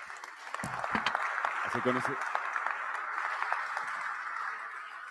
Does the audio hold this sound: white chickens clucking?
no